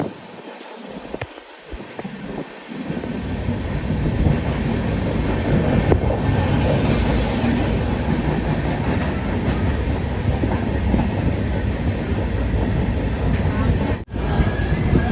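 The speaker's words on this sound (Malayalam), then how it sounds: "ട്രെയിൻ ഇപ്പോൾ ദുർഗ് റെയിൽവേ സ്റ്റേഷനിലേക്ക് എത്തിക്കൊണ്ടിരിക്കുകയാണ്" A Bilaspur–Ernakulam express train rumbles steadily along the rails near Bhilai, heard from inside a sleeper-class coach: a dense continuous roar with faint rattling, after a few brief low thumps at the start.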